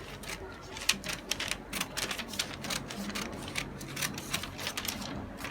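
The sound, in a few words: cutting out a paper corset pattern with scissors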